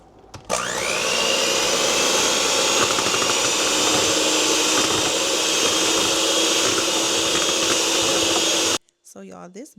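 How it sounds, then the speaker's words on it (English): A handheld electric mixer whips heavy cream on high into butter. Its loud, steady, close motor whine runs unbroken for about eight seconds, then cuts off abruptly, and a voice speaks after it stops. "I'm just gonna use my handheld mixer and mix on high"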